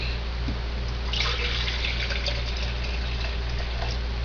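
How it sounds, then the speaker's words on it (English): Master cleanse lemonade drink is poured into a plastic shaker bottle with measuring marks, a steady close trickle and splash lasting a few seconds over a constant low hum. "so basically just pour 10 ounces of the drink"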